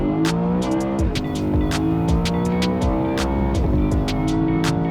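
A BMW car does a launch control start, its engine revving hard through rapid upshifts, each gear change marked by a sharp drop and pop, with loud continuous acceleration and crackling bursts heard from inside the car.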